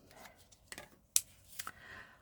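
Scissors snip through paper in a few quick, close cuts during card-making and stamping, with short crisp strokes separated by brief pauses.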